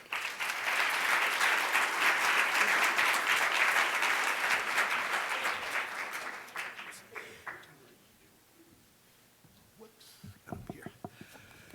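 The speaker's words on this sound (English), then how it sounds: "So please give a big, warm applause to Ron Blackburn Moreno." A crowd applauds steadily for several seconds, the clapping then fading into scattered claps and quiet room noise, with a little murmuring at the end.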